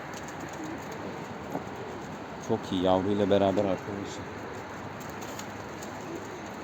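A pigeon coos in a short run of low, rhythmic calls in a loft, while someone talks nearby over a steady background hum.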